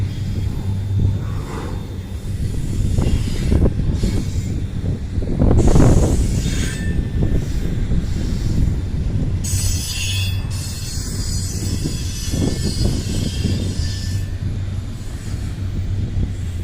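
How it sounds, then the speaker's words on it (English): A train rolls past on the rail track, a loud, sustained rumble of wagons with high screeching wheel squeal and metallic clatter, continuing steadily for about seventeen seconds with no voices. "there is another train coming on the other track of this one here"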